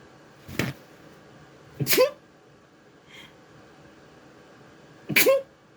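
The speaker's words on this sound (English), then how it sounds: "Okay, that was a weird sneeze." Three separate sharp sneezes, each a sudden burst of breath, spaced a second or more apart, with a soft faint sound between them.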